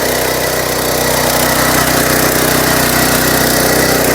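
A mini tractor power tiller engine runs loud and close, a steady buzzing drone with a rapid putter held at constant level throughout, with no speech.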